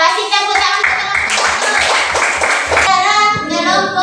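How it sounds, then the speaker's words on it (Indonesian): A classroom of students claps hands together in a burst of rhythmic, fairly loud clapping, with children's voices talking before and after. "Ya, kasih tepuk tangan."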